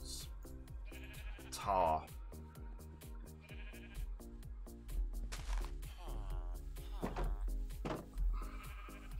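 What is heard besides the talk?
sheep bleating in Minecraft video game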